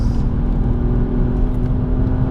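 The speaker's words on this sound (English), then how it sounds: "Brake hard. Then gas again." A BMW 235i on the circuit at Spa accelerates hard, its engine a loud, steady close-up drone with a continuous throttle roar throughout and no speech.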